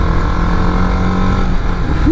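A TVS Apache RR310 sports motorcycle drones loudly at steady revs while riding, then the engine note drops and rises sharply as a gear change comes near the end.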